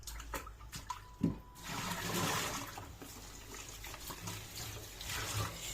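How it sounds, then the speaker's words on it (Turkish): Food is washed by hand under a running kitchen tap during cooking, giving a continuous rush of water with splashing and shifting flow as the food is turned. "Şöyle bir daha yıkayayım. Güzel bir yıkayayım."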